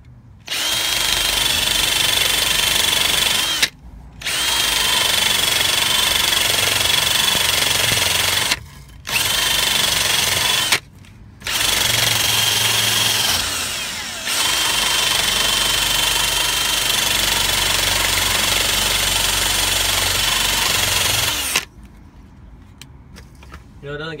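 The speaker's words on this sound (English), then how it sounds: "I was gonna take my drill with a wire wheel on there and" A power drill spins a wire wheel against rusty metal in several loud bursts separated by short pauses, grinding with a high whine.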